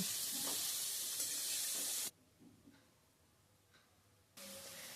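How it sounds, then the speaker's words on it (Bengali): Prawns fry in oil with salt and turmeric in a wok, a loud steady hiss that cuts out abruptly to near quiet for a couple of seconds, then returns. "কড়াইতে দিয়ে দিচ্ছি তেল তেল দিয়ে চিংড়ি মাছগুলো আমরা একটু নুন হলুদ দিয়ে ভেজে নেব"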